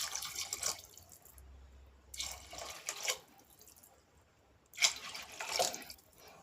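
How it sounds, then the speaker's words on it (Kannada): Water is poured from a cup into a pot of rice for chickpea pulao in three separate splashing bursts, with quiet gaps between them and no talking. "ಇವಾಗ ಇಲ್ಲಿ ನಾನು 2 ಲೋಟ ಅಕ್ಕಿಗೆ ನಾನಿಲ್ಲಿ 4 ಲೋಟ ನೀರನ್ನು ಹಾಕ್ಕೊಳ್ತಾ ಇದ್ದೀನಿ."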